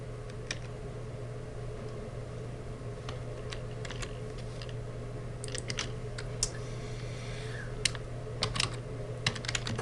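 Rapid keystrokes clatter on a computer keyboard while an address is typed into an Access 2010 form, light uneven taps over a low steady hum, with a few louder clicks near the end.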